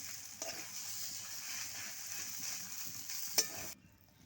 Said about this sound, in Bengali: এবার আমি এর মধ্যে দিয়ে দিচ্ছি আলুটা দিয়ে কিন্তু মিশিয়ে নেব